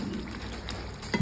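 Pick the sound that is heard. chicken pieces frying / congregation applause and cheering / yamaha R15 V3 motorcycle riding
chicken pieces frying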